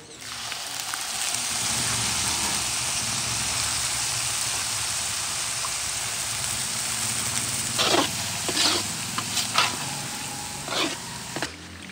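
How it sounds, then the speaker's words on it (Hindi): Spices with yogurt and turmeric sizzling as they fry in a pot for a Lahori chickpea dish, a steady broadband hiss with a few sharper crackles and pops toward the end. "तकरीबन 4 से 5 मिनट हमने इन मसालों की भुनाई की है"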